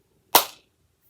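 One sharp, close hand clap rings out alone in a quiet room, with a quick decay.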